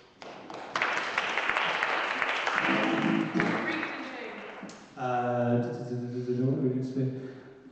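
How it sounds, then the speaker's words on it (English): Applause at a ladies' league awards event, a broad wash of clapping that runs for about four seconds before a voice speaks over its tail. "Round of applause to Seth Evans"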